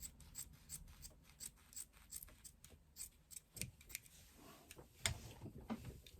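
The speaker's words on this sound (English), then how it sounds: "I'm going to use my little tiny ones to trim that excess off." Small scissors trimming excess fabric off a sewn wristlet zipper lining panel: a quiet series of crisp snips in an irregular, fairly quick rhythm, close and faint.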